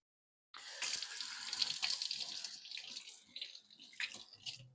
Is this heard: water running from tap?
yes